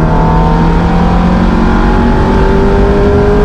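A Ferrari race car engine once driven by Michael Schumacher roars loudly and continuously, its pitch climbing steadily as it accelerates, with no voices.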